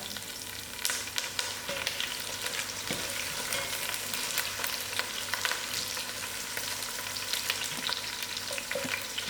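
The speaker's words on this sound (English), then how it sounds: "And then we'll get a basting sound with the thyme." Steady sizzling of curry leaves and thyme frying in hot oil, a dense crackling hiss with occasional small pops and stirring sounds.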